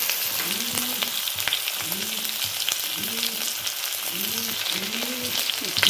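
Chicken curry with tomato and spices simmering and sizzling in a pan, a steady bubbling fry with soft repeated stirring scrapes, close and continuous with no talk.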